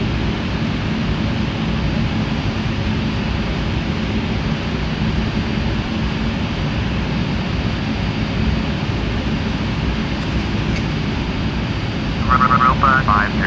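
A Boeing 737-800 in Air Europa livery landing on runway 05 at Madeira in the FS9 flight simulator game, a loud steady roar of jet engine and wind noise throughout, with a brief burst of cockpit tones near the end.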